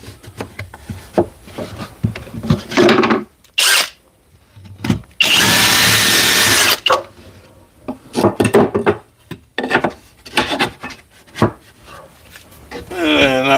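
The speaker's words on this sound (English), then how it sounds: "I drilled those holes." A power drill bores holes in wood during a cabinet build, with short loud whirring bursts separated by pauses, knocks and handling noises, and brief talk in between.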